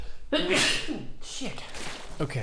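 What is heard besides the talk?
a sneeze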